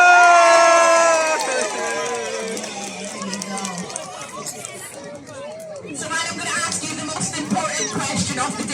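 An audience at a sea lion show in Birmingham cheers and shouts in a loud burst, then settles into lively crowd chatter with children's voices.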